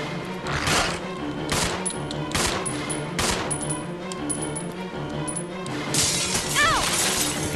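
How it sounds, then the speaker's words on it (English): Rapid gunfire in the video game Resident Evil 0, a run of close, punchy shots in quick succession with clinking, ringing debris and a brief rising whine near the end. "I was just shooting at nothing, which is great."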